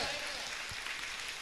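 A church congregation claps together during a Malayalam Christian sermon, producing a dense, steady wash of hand claps that carries evenly from start to finish.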